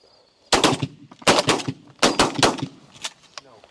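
Shotgun blasts during a dove hunt, three loud, close reports about three-quarters of a second apart, each followed by a short echo, then a softer fourth shot, with a hunter shouting briefly.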